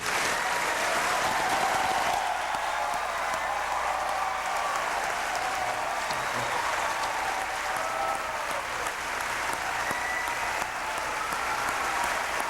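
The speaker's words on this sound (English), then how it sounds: "to a burst of what one presumes is bipartisan applause, George W. Bush climbs the podium" Broad, steady applause from a large crowd as George W. Bush, President-elect after the 2000 election, climbs the podium, a continuous wash of clapping that holds evenly throughout.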